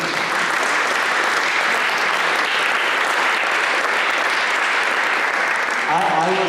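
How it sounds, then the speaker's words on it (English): An audience at a charity concert celebrating the Deaf and Blind Aid Lanka 20th anniversary claps steadily in a sustained round of applause, with a voice briefly speaking near the end. "I think we should all applaud all of you"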